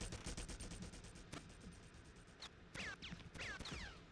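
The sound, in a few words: enemy gunfire in the video game Red Faction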